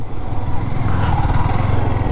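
Motorcycles, including a Yamaha R15 V3, idle and rev as a group of riders pulls up and parks outside a riverside resort; a steady, loud, continuous engine rumble fills the scene without pause.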